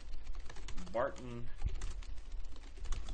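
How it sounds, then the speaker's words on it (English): Soft, rapid clicking of fingers on a computer keyboard runs steadily at close range, with someone briefly speaking over the typing. "I'm just typing what comes out top of my head"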